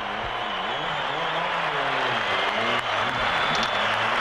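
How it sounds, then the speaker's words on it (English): Dense crowd cheering and applauding at a rally stage in Argentina, a steady roar that swells throughout, with faint engine tones underneath. "you hear what the crowd think about that"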